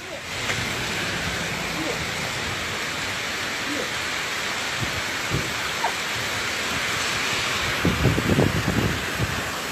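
Cold rain falls steadily in a continuous hissing wash, with scattered thumps and louder spattering toward the end, no clear talking over it.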